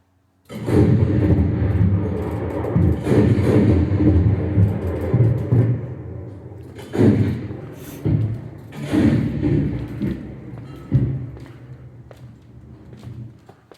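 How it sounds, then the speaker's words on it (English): A 40mm Bofors gun fires during a light and sound show, giving a heavy booming blast followed by long rolling rumble and several further thuds and echoing reports over about fourteen seconds. "Caution, the 40mm Bofors gun is about to fire."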